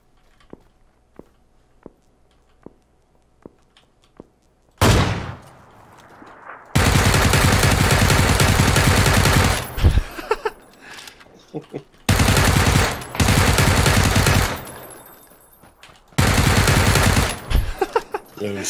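PUBG video game gunfire: after faint scattered footsteps, long bursts of loud automatic fire rip out in several sustained volleys separated by short pauses, with brief voices in between.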